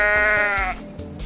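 A goat in the Goat Simulator video game lets out a loud, wavering bleat lasting under a second, then drops away to quiet background game sound.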